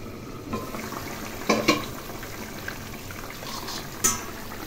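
Hilsa fish curry broth bubbling in a pot with ash gourd, a soft steady simmer broken by a few louder stirring clinks and splashes, close by, with no talking.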